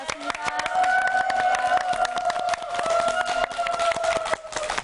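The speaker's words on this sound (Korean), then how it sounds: "뜨거운 박수 부탁드립니다." Korean lecture audience clapping in thanks after a mentor's talk, a steady crowd of hands with sharp individual claps throughout, while a strong voice-like tone runs underneath.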